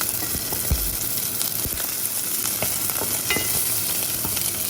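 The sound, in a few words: zucchini and beef trimmings sizzling in a stir-fry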